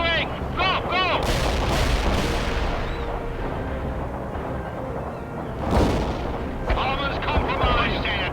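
Heavy artillery fire and shell blasts in World in Conflict, loud, continuous booming and rumbling with sharp impacts, a big blast near the middle, and chirping radio-style effects over the top.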